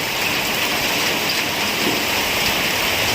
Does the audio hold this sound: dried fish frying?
no